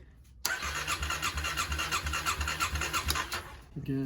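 A 2009 Kawasaki KLX250S motorcycle engine catches after a brief silence and runs with a rapid, even mechanical chatter and throb for about three seconds, then cuts off sharply, heard up close.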